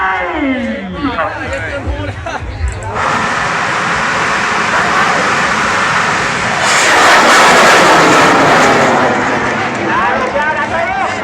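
A bang fai rocket launches at a rocket festival at Wat Nong Kwang Thong in Laos, bursting into a loud, steady, jet-like roar after a few seconds of crowd chatter and swelling as it climbs, while voices carry on beneath the blast.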